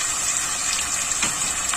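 Rinse water from a spice-grinder bowl is poured into a pot of chicken curry, a close, continuous gushing splash running without a break for about two seconds.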